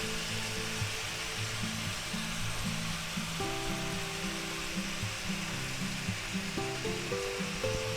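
Egg noodles and a splash of water hiss and sizzle steadily in a hot stir-fry pan with Vienna sausage, garlic and vegetables, a continuous close frying crackle.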